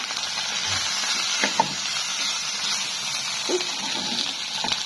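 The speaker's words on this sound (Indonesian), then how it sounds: "Aku goreng semuanya." Eggplant, carrot, mustard greens and other vegetables sizzling in hot oil, a steady dense hiss with occasional faint pops and clinks, close and continuous.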